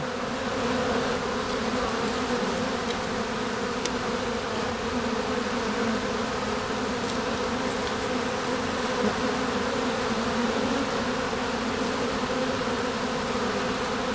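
Honeybees buzz around the entrances of a tall hive in autumn, a dense continuous hum at close range that stays steady and loud for the whole stretch, with no talking.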